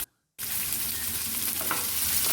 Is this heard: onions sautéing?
yes